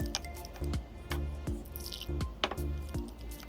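Sattu flour being churned with water, black salt, rock salt, green chili, lemon and mint, giving repeated wet squishing, dripping strokes in a steady rhythm, close and moderately loud with no talk.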